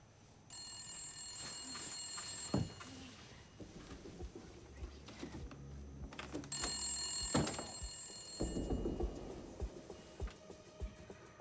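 A telephone bell rings in two long bursts in a quiet home at night, with soft background noise and faint movement between the rings.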